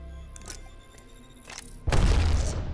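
An Arc Star grenade in Apex Legends goes off as a sudden loud electric burst after a few faint clicks and taps, then crackles on to the end.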